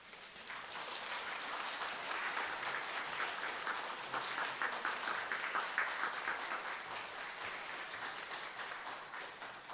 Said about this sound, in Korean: 우리 이삼자 권사님 칠독 시상할 때 큰 박수 해주시기 바랍니다